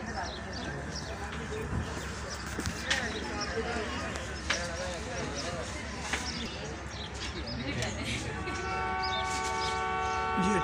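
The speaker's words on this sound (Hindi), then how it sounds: "ये ट्रेन का विसल सुनाई दे रहा है, चल पड़ी है जनाब।" On the Awam Express platform, the train's whistle sounds as a sustained harmonic tone toward the end. It rises over crowd murmur, rumbling rail noise and nearby talking as the train starts to move.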